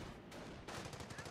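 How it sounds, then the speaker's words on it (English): Machine gun fire in the World War II strategy game Company of Heroes, a short rattling burst of rapid, evenly spaced shots breaking through dense battlefield noise, moderately distant. "That's MG."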